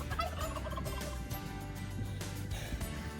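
A turkey gobbles inside a new chicken coop, its rapid throaty calls rising out of a dense, noisy background with steady clucking and rustling throughout.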